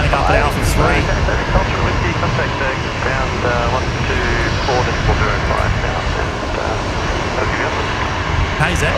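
A Virgin-style Velocity Boeing 737-800 jet lining up for departure at Brisbane Airport roars with a loud, steady engine rumble and whine, while people talk over it throughout.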